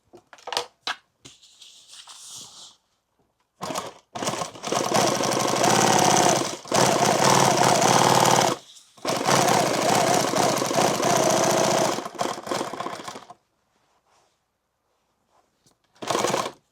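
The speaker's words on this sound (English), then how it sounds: "I don't need this line of stitching here that I'm sewing." An industrial sewing machine stitches a bandolier in a closed-down shop. It runs in several long, loud bursts of rapid mechanical stitching, with short pauses and quieter gaps between runs.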